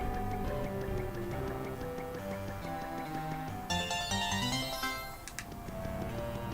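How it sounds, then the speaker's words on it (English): A sparkling chime of the star piece pickup jingle from Paper Mario: The Thousand-Year Door rises over the game's steady background music, ringing brightly and briefly before the music carries on. "I love the little jingle of the star piece"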